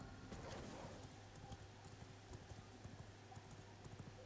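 Horse hooves clip-clop steadily in the video game V Rising, a quiet, regular rhythm of soft thuds over a faint hum with no talk.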